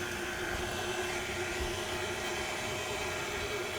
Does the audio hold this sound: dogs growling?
no